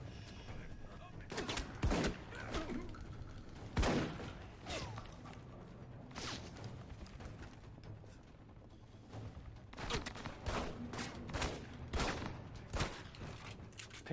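Pistol gunfire in the video game Alpha Protocol cracks out in sharp single shots and quick bursts, spread over a combat scene with faint mechanical clatter and someone talking quietly at times.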